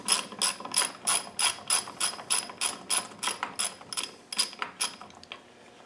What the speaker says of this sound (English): So now that screw's coming out.